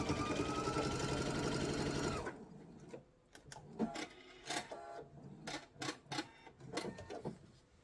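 A sewing machine runs steadily at close range while stitching the back of a quilt, then stops after two seconds, followed by scattered clicks and light handling knocks.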